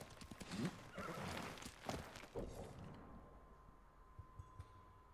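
A horse neighs and its hooves clip-clop in Ghost of Tsushima's Iki Island expansion, with several whinnying bursts up front before the sound thins to a few scattered hoof taps near the end.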